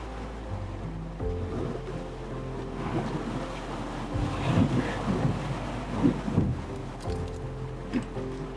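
Off-road vehicle pushing through deep water on the Ozark Trail, a rushing churn of splashing water and engine rumble with wind buffeting the microphone, surging louder midway.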